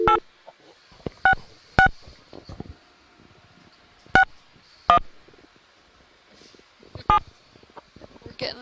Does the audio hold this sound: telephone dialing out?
yes